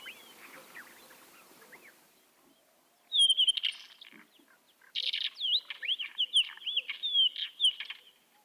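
Wild songbird singing a varied phrase full of imitated calls of other species, such as a redshank and a pied wheatear, heard outdoors among yurts; clear chirps and whistles come in two loud bursts after a quieter start.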